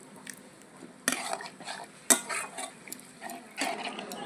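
Cauliflower stalks stirred with water and salt in a pan, with a few sharp metal clanks of the spoon against the pan between softer scraping and shuffling, close and fairly quiet.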